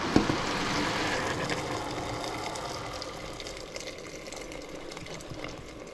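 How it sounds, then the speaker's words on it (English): Water poured into a large pot of giant beans and pork stew with garlic, a steady close gushing pour that runs continuously, strongest at the start and easing slightly toward the end. "add some water."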